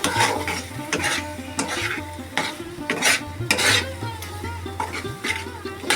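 Spice paste for a mustard and poppy seed prawn curry sizzles in a pan while a spoon scrapes and stirs it in repeated strokes, with occasional clinks over a continuous frying hiss and no talking.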